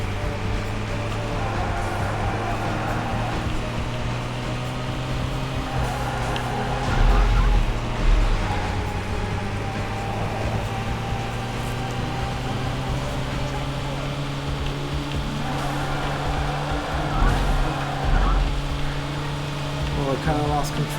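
A truck engine drones steadily throughout a race in the video game Burnout, with a constant low hum, occasional rev swells and faint whooshing road noise, and a person talks over it.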